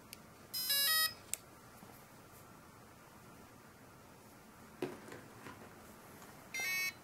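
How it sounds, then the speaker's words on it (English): Two short electronic beep sequences from a SimonK 30A electronic speed controller powering up with throttle set high, one early and one at the end, with a faint click in between over quiet hiss. "Powered up. I got that beep."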